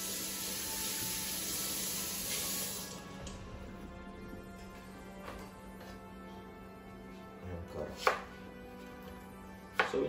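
Knife slicing peeled vegetable into fairly large pieces on a board, for a meat pie with peas, giving a steady run of soft cuts with a few sharper chops near the end; no talking.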